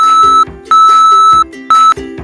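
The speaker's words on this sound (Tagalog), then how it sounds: "The user taps the insert coin button and his or her phone will beep." Three loud electronic beeps from a phone when a coin button is tapped on a piso wifi vending machine, each a steady tone with a buzzy undertone, repeating in an uneven rhythm close up.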